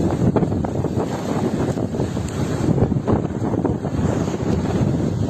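Sea waves washing onto a beach at Kudankulam where dead fish lie along the shore, a steady loud surf roar with wind buffeting the microphone and no voices.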